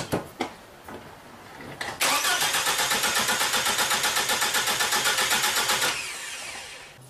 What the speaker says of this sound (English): This is what you're going to hear with normal compression.